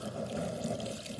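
Water pours steadily from a tap into a pot for boiling salt fish, a continuous close splashing rush.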